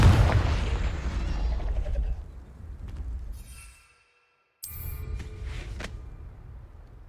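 A Confringo blasting spell from Hogwarts Legacy bursts loudly at the start and decays into rumble, followed by a brief silence and then a sharp second magical crack with lingering shimmer.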